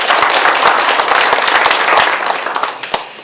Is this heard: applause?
yes